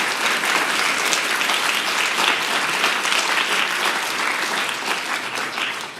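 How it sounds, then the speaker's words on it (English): An audience gives Professor Stiglitz a warm round of applause at a business journalism event, a dense, sustained wash of many hands clapping that holds steady and eases slightly at the end. "Please join me in lending a very, very warm round of applause to Professor Stiglitz for his time today."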